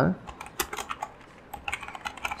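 Clicky keystrokes on a computer keyboard as a search query is entered, quick irregular taps in short bursts with a brief pause midway, close and fairly quiet.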